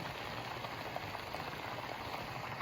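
A Korean instant noodle hot pot bubbling at a steady boil, a soft, continuous fizzing and popping of liquid heard close up with no talk.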